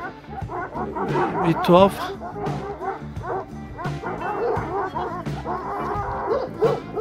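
Kangal puppies at a breeding farm yip and bark in quick, high bursts with a few whimpers, close by and fairly loud, mixed with people talking over them throughout.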